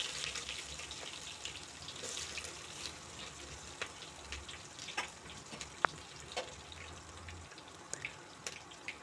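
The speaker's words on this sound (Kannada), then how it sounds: "ಹಾಕಿ ಚೆನ್ನಾಗಿ ಫ್ರೈ ಮಾಡ್ಕೊಬೇಕಾಗತ್ತೆ. ಅದು ಡೀಪ್ ಫ್ರೈ ಆಗೋವರೆಗೂ, ಕಲರ್ ಚೇಂಜ್ ಆಗಬೇಕು" Sliced onions fry in hot oil with curry leaves and green chillies, a soft, steady crackling hiss with faint clinks and drips, heard alone at low level.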